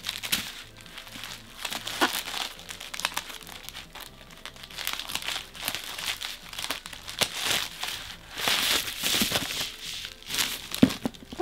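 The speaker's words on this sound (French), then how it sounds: "c'est du papier bulle avec des petits cœurs" Bubble wrap printed with little hearts is crinkled and squeezed by hand, giving bursts of crackly rustling that come and go over several seconds, close and fairly loud, with no speech.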